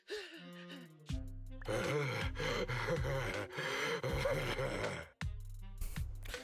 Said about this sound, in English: That was heavy breathing indeed.